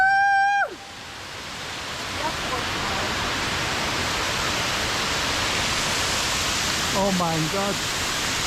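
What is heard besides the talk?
large waterfall on the E5 Alpine route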